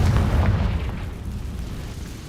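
A Confringo fire spell explodes in Hogwarts Legacy, a loud low boom that hits at once and then rumbles and fades over about two seconds, with no voices.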